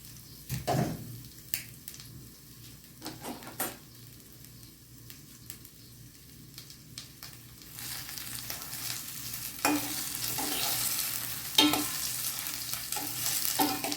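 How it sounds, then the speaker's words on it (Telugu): Prawns fry in a pan for a curry, with intermittent stirring scrapes and clatter at first, then a steady, hissing sizzle that grows louder and fuller, punctuated by occasional spatula strokes; no talking. "కొంచెం సేపు ఒక్క 2 నిమిషాలు ఫ్రై చేస్తాం"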